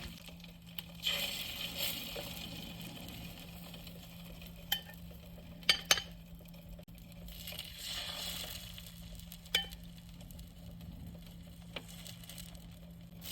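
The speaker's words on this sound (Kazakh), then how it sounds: "Енді мен сковородкаға май жағып, жұмыртқа мен шұжықты қуырып аламын." Egg and sausage pieces frying in an oiled pan: a faint, steady sizzle with occasional soft scrapes and taps of a utensil, quiet and close, under a low background hum.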